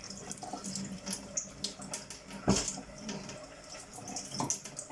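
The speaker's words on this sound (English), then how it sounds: "I washed with cold water, never washed with hot water." A kitchen tap runs cold water while raw chicken is washed in a sink, a faint, close splashing flow with intermittent louder splashes and clatters, no talk.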